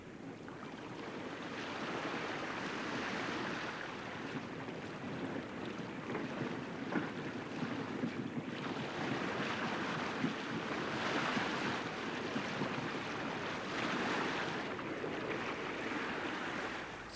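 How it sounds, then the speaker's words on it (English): Freshening northerly wind and breaking waves surround J Class sailing yachts at sea, a steady broad rush of wind and water with surging swells that rise and fall throughout, no voices. "It's a freshening northerly wind"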